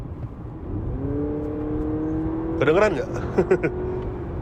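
An artificial sporty engine note played through the car speakers hums and rises inside a 2024 Honda Accord e:HEV hybrid cabin in sport mode while a person speaks briefly over it.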